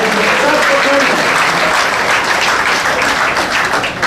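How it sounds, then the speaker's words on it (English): Loud, close applause from a crowd at a fishing tournament gathering, thick continuous clapping with a few voices mixed in, holding steady for about four seconds before cutting off abruptly. "So everyone give yourself a round of applause."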